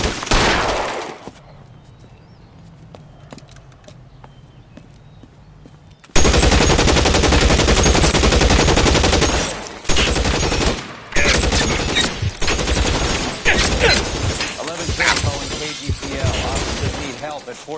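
Loud, sustained gunfire with shattering glass in the video game L.A. Noire, erupting after a quieter stretch and continuing as dense, rapid bursts with brief breaks.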